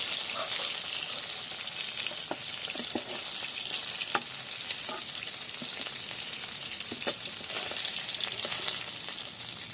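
More vetki fish pieces go into hot frying oil, a dense constant sizzle with scattered small clicks and stirring knocks, close and loud with no speech.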